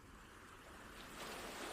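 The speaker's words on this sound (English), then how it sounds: "The sound of the ocean rises and falls in steady cadence." Calm ocean waves wash steadily at a distance, a soft continuous surf with a faint rise in volume and a light breath of wind.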